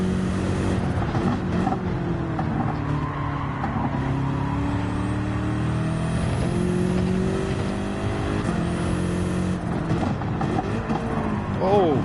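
Racing car engines from the Gran Turismo video game drone and rev continuously, with shifting engine pitches layered together, while people talk over them.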